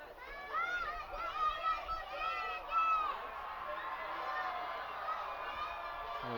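Excited young fans cheer and shout in the stands of a high school football game, Millard South versus Omaha Burke, a lively crowd roar with bursts of high voices rising and falling throughout.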